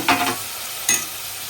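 Tomato pieces stirred into a hot pan for mutton curry, two brief bursts of sizzling and scraping a moment apart, close and moderately loud, with quiet between.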